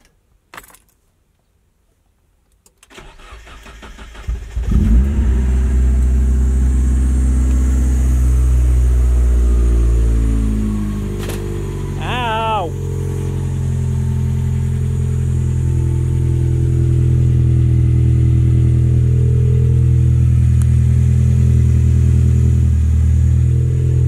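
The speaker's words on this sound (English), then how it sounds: "you guys want to hear a cold start?" Rattling keys and a click, then a Mazda Miata engine cranks and catches, settling into a loud, steady cold idle with slight shifts in pitch.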